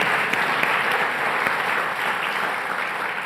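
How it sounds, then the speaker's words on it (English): Audience applause fills a hall at a Title IX 50th anniversary celebration honoring athletes, a steady, dense wash of clapping hands that holds loud and even throughout without letting up. "We got to do that again. That wasn't enough applause."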